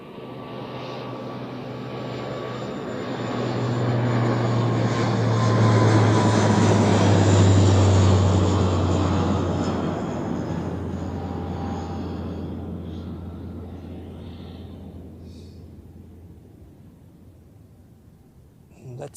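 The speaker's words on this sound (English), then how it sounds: "And here we have the -8 of Croatia Airlines." A Croatia Airlines Dash 8 turboprop airliner lands at Zurich Airport, its steady propeller drone swelling as it passes close by, then fading gradually after touchdown.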